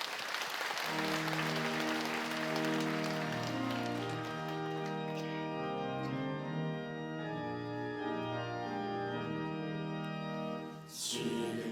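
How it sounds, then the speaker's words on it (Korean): Clapping from a church congregation at a prayer gathering fills the sanctuary, dense and sustained, blended with steady organ or keyboard chords that carry on beneath it for most of the stretch. "오늘 우리에게 함께 하시는 우리 하나님께 우리 큰 영광의 박수 올려드리겠습니다."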